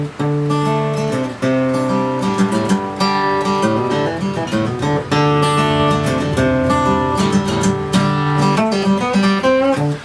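An electric guitar plays a loud, repeating melodic riff of quick picked notes with ringing chords, steady and continuous without any voices.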